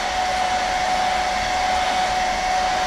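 A hair dryer blows steadily at close range to dry freshly airbrushed paint on a fishing lure, a continuous loud whooshing hum with a faint whine, no voices.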